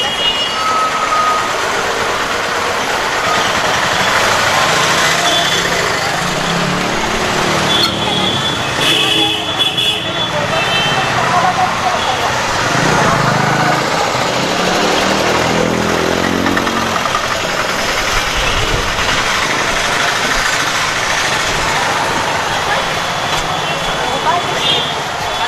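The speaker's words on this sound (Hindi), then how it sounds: "ज़्यादा ट्रैफिक जाम है यहाँ पे क्योंकि स्कूल का छुट्टी भी हो गया है यहाँ पे" Congested street traffic in Tinsukia after school lets out, with truck and car engines idling, reversing beeps and occasional toots forming a dense, loud, continuous din while a voice speaks over it.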